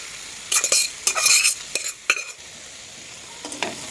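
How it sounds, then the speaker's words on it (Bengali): Cooked dal poured into a pot and stirred, several short bursts of scraping and splashing in quick clusters, then a pause and one last brief stir. "এবার আমি ডাল ঢেলে দিচ্ছি"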